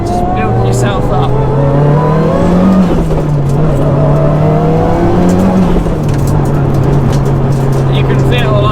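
Mitsubishi Evo 5 engine pulling hard, a loud close drone rising and easing through the revs with a brief squeal of tyres, a voice speaking over it throughout.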